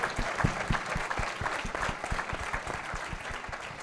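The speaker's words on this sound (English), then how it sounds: "So if we could all now give them a big round of applause." An audience at an archdiocesan convocation panel discussion claps for the panelists. The applause is dense and steady, with crisp individual claps throughout, and nobody speaks over it.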